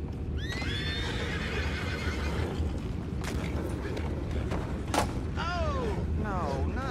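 Horses in Red Dead Redemption 2 whinny several times with high, shrill neighs, under a low background rumble and a sharp bang, while voices talk faintly.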